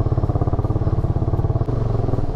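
A motorcycle rides along a rough, bad village road, its engine thumping in a fast steady pulse, loud and close with a rattling clatter throughout.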